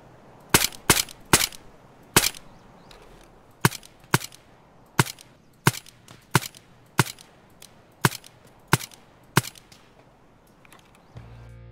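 Suppressed shots from a P226R pistol fitted with different silencers in Escape From Tarkov: about fourteen sharp, muffled reports fired one at a time at uneven intervals, punchy and close, with no talk.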